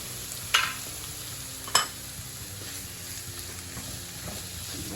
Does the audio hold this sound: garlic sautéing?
yes